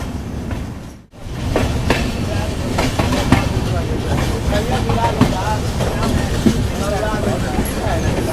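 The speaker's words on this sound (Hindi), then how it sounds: "तो फाइनली अपनी जो सत्याग्रह एक्सप्रेस है डिपार्ट कर चुकी है बगहा रेलवे स्टेशन से पूरे 20 मिनट डिले के साथ" Satyagraha Express pulling away from Bagaha railway station in West Champaran, Bihar, after a 20-minute delay: a steady, loud rumble of rolling train noise with rhythmic wheel clatter, briefly dropping out before resuming and continuing throughout.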